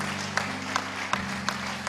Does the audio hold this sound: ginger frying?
no